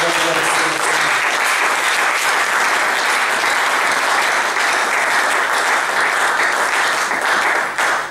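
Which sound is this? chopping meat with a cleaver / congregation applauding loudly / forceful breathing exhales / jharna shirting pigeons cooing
congregation applauding loudly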